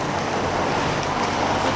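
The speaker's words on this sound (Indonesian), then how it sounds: "tuh hujan hujan hujan hujan hujan hujan" Steady rain falling, a dense even hiss with low rumble beneath, continuous and fairly close throughout.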